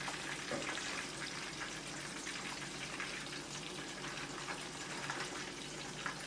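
Milkfish sizzles steadily in hot oil in a pan while being turned over, a continuous close crackling fry with no talk over it.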